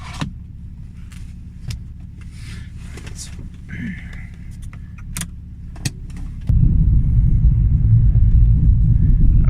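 A BMW E46's engine rumbles low and steady from inside the cabin, rear silencer removed, then the drone grows noticeably louder and deeper partway through, with faint clicks and knocks.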